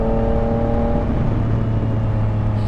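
A Honda Rebel 500 motorcycle cruising along a road, its steady engine hum and whirring drone continuous and fairly loud, with a slight pitch drop midway as it eases off.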